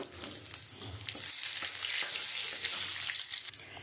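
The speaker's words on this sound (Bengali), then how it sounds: "আমি কড়াইয়ের মধ্যে তেল দিয়ে দিয়েছি, আমি শুকনো লঙ্কা, তেজপাতা আর জিরে আমি এগুলো ফোড়ন দিয়ে দেবো।" Dried chilli, bay leaf and cumin tempering in hot oil in a wok, an intense close sizzle that swells and spreads, with a few spatula scrapes and stirs near the start and no voices.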